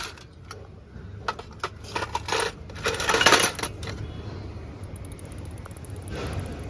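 An old Royal Enfield Bullet 350 B1 engine with a worn gear bearing rattles with a metallic, clinking clatter over a steady low running noise, the knocking irregular and fairly close.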